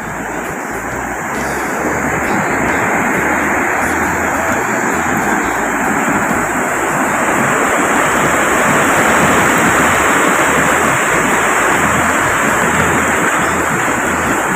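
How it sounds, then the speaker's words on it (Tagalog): Big ocean waves during a stormy Christmas typhoon on the Mindanao coast make a loud, continuous roar of surf mixed with wind, steady and close throughout. "Laki ng alon mga kabatang Mindanao kasi tabi na to ng dagat."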